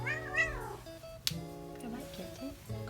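A pet cat meows in a rising, wavering call near the start, heard indoors under people talking as they get ready to leave the house.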